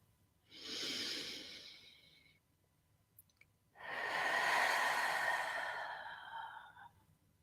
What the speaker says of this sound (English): Big, deep breath in, really filling up your lungs, and on the exhale, seeing a white mist.